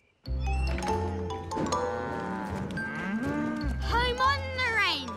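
Several cartoon cows moo loudly and overlapping, long drawn-out lowing calls from nearby animals, continuing throughout.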